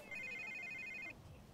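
Phone ringing in Batman: The Telltale Series: a rapid electronic trill pulses steadily for about a second over soft game ambience, then cuts off, with no talk.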